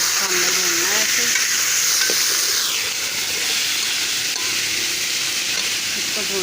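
Beef sizzles loudly and continuously in a pan while being fried for korma, with stirring scrapes and an occasional metallic clink near the start.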